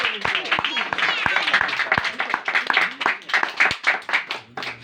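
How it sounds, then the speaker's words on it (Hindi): A church congregation claps loudly and vigorously in sharp, dense bursts, close and energetic, with voices heard among the applause. "ठंडी नहीं, जरा जोरदार तालियां"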